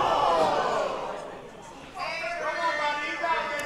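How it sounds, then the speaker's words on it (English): Crowd at a wrestling student showcase jeering and reacting, a broad murmur of voices swelling and dipping under a commentator's talk, with a louder surge midway. "Crowd here not loving Trevor Blackwell"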